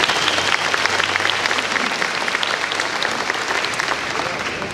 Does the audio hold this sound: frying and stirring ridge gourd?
no